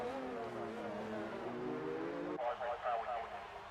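Race cars at the Baku street circuit in a racing game, engine whine droning and shifting pitch as cars pass, with a brief lower roar near the end, under steady commentary.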